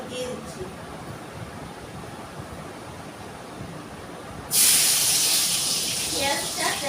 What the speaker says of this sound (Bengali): এখন পেঁয়াজটা ওই তেলটার মধ্যে আমি দিয়ে দিচ্ছি।